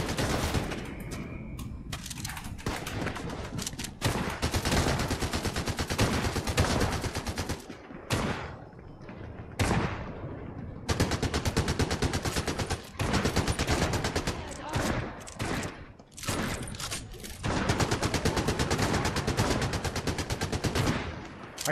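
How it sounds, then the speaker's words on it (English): Rapid automatic gunfire in the video game Fortnite bursts loudly and repeatedly, sharp close-range volleys broken by brief pauses over about twenty seconds. "Being shot at again."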